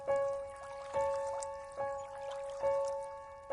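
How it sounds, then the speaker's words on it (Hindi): A cartoon river water sound effect gives rhythmic plopping drips about once a second over faint sustained musical tones, quiet and echoing in a dark, still night scene. "नदी के पानी की आवाज गूंज रही थी"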